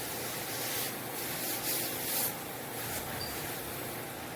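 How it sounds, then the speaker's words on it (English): A wooden surface at a tongue-and-groove ceiling job is rubbed with a paper bag from a hardware store, giving a continuous soft, close scuffing hiss with slight swells and no talk. "the wood and dust particles, like scuffing up the wood"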